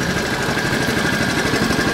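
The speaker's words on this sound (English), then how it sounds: "Here it is just idling." A 1973 Honda ST90 motorcycle, started after 20 years in storage, idles with a steady, slightly uneven small-engine putter close by, with no talk.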